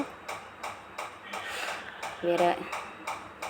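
A spoon stirs soap base pieces in a bowl set over a gas stove, producing regular clinking and scraping taps against the bowl, moderately close, with a brighter ringing knock midway.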